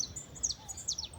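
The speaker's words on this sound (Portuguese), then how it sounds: "o barulho desses pássaros cantando" Several birds sing and chirp at dawn on a rural homestead, with bright repeated tweets and short descending calls over a quiet background, moderately close and faint overall.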